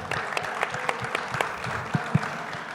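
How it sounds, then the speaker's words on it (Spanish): A seated audience at a Govtech digital entrepreneurship panel gives a panelist a round of applause, a steady clatter of many hands at moderate volume with a few louder individual claps near the end. "Un fuerte aplauso para Juan Pablo"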